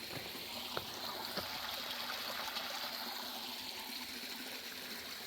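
A rocky creek runs beside a hiking trail in a soft, continuous babble and trickle, heard alone at low level with a few faint clicks and taps.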